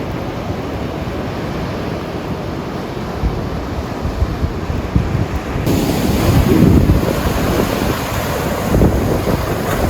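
Ocean waves surge up onto coastal rocks on the Big Sur shore, a steady roar of surf with gusty wind buffeting the microphone, swelling louder partway through as a bigger wave washes in close.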